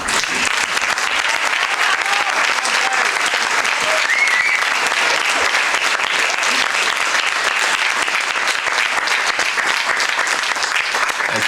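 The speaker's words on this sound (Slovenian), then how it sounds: "mislim, da on si pa zasluži, da mu kljub vsemu še enkrat zaploskamo" An audience claps continuously at the opening ceremony of a radio telescope for observing OH emission in Nova vas na Krasu, steady, full applause that holds loud and uniform for the whole stretch without speech.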